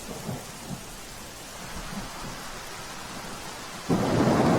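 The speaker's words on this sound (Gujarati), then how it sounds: "સતત વરસાદ વરસી રહ્યો છે" Heavy rain pours steadily over Ahmedabad while low thunder rumbles in the background, then a sudden louder surge of downpour or thunder swells near the end.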